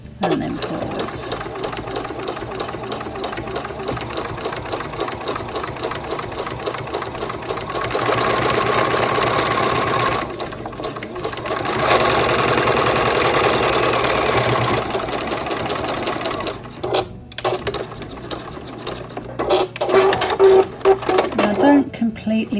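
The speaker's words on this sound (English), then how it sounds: "I come down about 1 inch or so and sew backwards and then forwards." A sewing machine runs in steady bursts, stitching backward then forward across fabric while making a holiday bottle topper from scraps, close and loud with brief pauses between runs.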